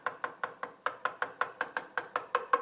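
A chisel shaves a wooden plug flush with a shelf surface in a steady run of about a dozen short, crisp cutting strokes, evenly spaced, close and clear, with no talking.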